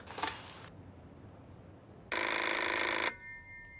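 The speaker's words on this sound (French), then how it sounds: "Je vais appeler Caridad, on va voir si elle répond à ce maudit téléphone." An old-fashioned telephone bell rings in a TV drama setting, a brief faint ring first, then a loud, sustained electric bell burst lasting about a second before cutting off.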